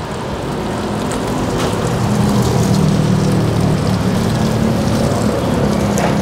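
Steady, loud hiss of water spraying against a car door, a dense continuous wash of splashing with no pauses across the whole stretch.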